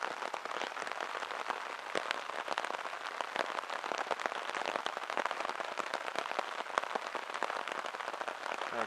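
Spring rain falls steadily on old stones in a cemetery, a dense, even patter of drops with no pauses and no voices.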